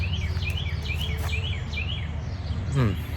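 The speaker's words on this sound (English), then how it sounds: "Hear them birds?" Birds chirp outdoors on a morning in a repeating series of quick, bright rising tweets over a steady low background hum, moderately near.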